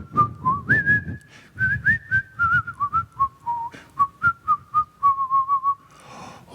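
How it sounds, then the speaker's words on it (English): A person whistles a tune up close, clear and alone, in a melodic line of short and held notes with brief pauses between phrases. "she heard this whistling"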